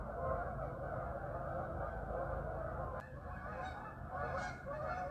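A flock of geese honks continuously, a dense chorus of calls with a few louder honks standing out, heard faintly at a distance.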